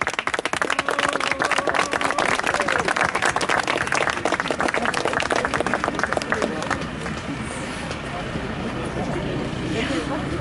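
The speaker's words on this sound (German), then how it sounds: "Dankeschön nochmal und einen großen Applaus." A crowd at a German anti-glyphosate protest rally applauds with dense, rapid clapping that thins slightly toward the end, with voices audible beneath it.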